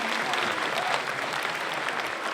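A school assembly audience claps steadily in sustained applause, dense and even throughout.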